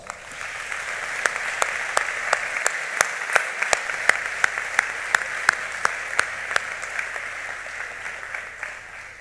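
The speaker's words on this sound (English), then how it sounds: "I would like to give them one large round of applause." A large round of applause from the audience at a high school senior awards ceremony, steady and moderately loud, with a few sharp individual claps standing out near the front throughout.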